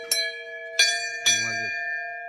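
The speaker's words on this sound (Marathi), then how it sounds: "घंटी वाजवणार आहेस का" A temple bell is struck three times, each a bright ringing clang that lingers and overlaps the next, close and clear.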